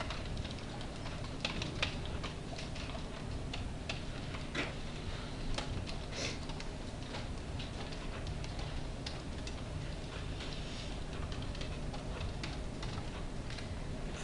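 Steady, rapid key presses on a calculator keypad or keyboard, a continuous run of light clicks at close range over a low background hum, with no talking.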